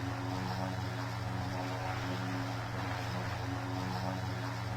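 A Cessna Caravan's propeller engine drones steadily in a PTFS flight game, a continuous, even hum with a low buzzing tone and no breaks.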